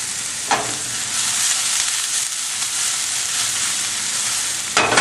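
Shallots frying in a pan for a shrimp pasta, giving a steady, close, bright sizzle that holds constant throughout with no talking.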